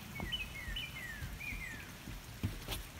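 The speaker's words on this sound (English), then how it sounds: "A bird." A bird singing in a marsh in the morning, giving a few thin, rising and sliding whistled phrases at moderate distance over a soft, steady outdoor background hiss.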